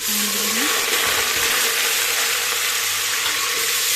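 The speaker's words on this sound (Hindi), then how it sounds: "अब हम प्याज को ऑयल में फ्राई करते हैं।" Chopped onions frying in hot oil for a beef mirchi masala, giving a steady, close hiss of sizzling that holds evenly throughout with no voices.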